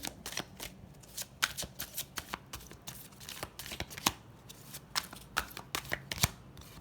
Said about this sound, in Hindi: but still मैं फिर से shuffle करूँगी।